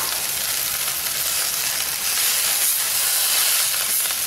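Curry leaves and coriander sizzle in sesame oil for a thokku, a steady loud hiss and crackle of frying that runs close and unbroken from start to finish, with no talking.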